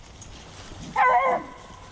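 Hunting dogs on a deer hunt give a short burst of barking and whimpering, a single yelping cry standing out over faint background, fairly close and with no talk.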